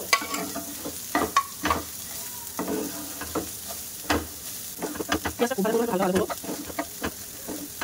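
Chopped onions, three large ones, fry in a pan for dosa, a crackling sizzle broken by repeated scraping stirs with scattered clucks from a nearby chicken.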